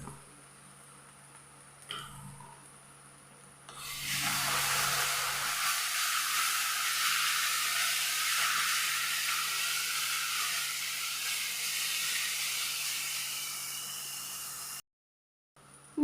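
Spring onion and chilli flakes sautéing in a pan give a loud, steady sizzling hiss that starts after a quieter opening, holds for about ten seconds close up, then cuts off abruptly near the end.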